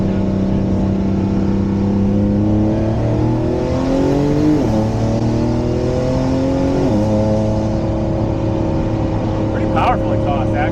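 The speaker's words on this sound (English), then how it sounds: "Pretty powerful exhaust, actually." $2M W Motors Fenyr Supersport hypercar driven flat out up a mountain: loud, sustained engine roar climbing in pitch, with two quick gear-shift dips, constant and close throughout.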